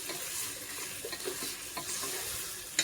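Chicken and onions sizzle and fry in hot oil as a spoon stirs them through the pan for a kongu-style white chicken biryani, a steady close crackle with scraping stir strokes and a sharp clink at the end.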